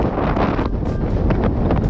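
Strong wind buffets the microphone with a loud, steady roar and gusty rumble, with no voices.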